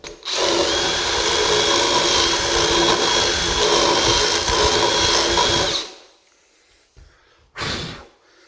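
A power drill with a Forstner bit bores into solid wood for about six seconds, loud and close, then stops, followed by a few faint knocks and a short burst of handling noise.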